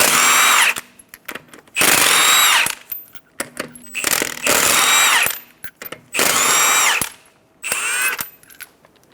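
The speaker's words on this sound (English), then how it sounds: "remove your 5 lug nuts." A power tool with a 21mm socket spins off the lug nuts on a 2014-2019 Toyota Highlander front wheel, with five loud, close bursts of whirring, each about a second long, separated by short pauses and small clanks.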